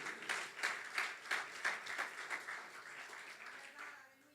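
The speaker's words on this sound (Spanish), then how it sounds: "Dale un aplauso al Señor entonces" A church congregation claps for the Lord during a sermon, a fairly quiet, rhythmic run of evenly spaced clapping bursts that keeps a steady beat and then softens toward the end.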